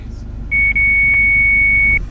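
A phone's ringback tone on an outgoing call, heard from inside a vehicle on a cross-country road trip: one steady, clear electronic tone lasting about a second and a half over low road rumble.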